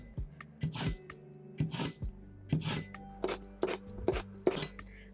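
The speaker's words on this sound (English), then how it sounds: "I am going to sharpen my knife" A kitchen knife scrapes repeatedly along a sharpening steel, about ten rasping strokes in a steady back-and-forth rhythm, close and clear with no voices.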